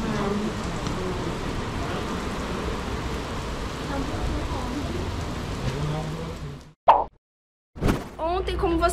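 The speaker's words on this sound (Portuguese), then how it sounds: "estava chovendo demais e não deu pra gente continuar a gravação do vídeo" Heavy summer rain in Florida falling around a motorhome, a steady dense patter and splashing that fills most of the stretch, then cuts out briefly before resuming near the end.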